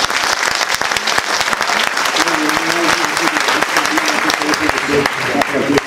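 Audience applauding after a talk on aquascaping, a dense, steady clatter of many hands clapping throughout, with a voice speaking over the middle and end.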